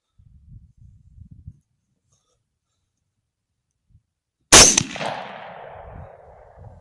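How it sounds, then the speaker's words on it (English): A single loud rifle shot fired at a wild boar with a Barnes TTSX bullet cracks out after near silence and some faint outdoor rustling, then rolls away in a long echoing tail. "get set up for my final shot"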